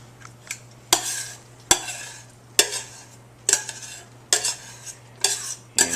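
Sauteed and fresh vegetables, walnuts and quinoa are stirred together at room temperature, giving about eight sharp utensil scrapes and clatters in an uneven rhythm against a quiet background hum.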